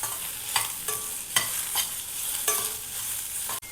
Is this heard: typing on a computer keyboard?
no